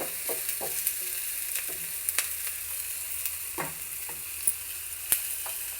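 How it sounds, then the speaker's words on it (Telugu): Sliced onions frying in a little oil for a sweet mango curry, a soft steady sizzle broken by intermittent scraping stirs and light clinks of a utensil against the pan, no talking. "ఉల్లిపాయలు వేగిపోయాయండి"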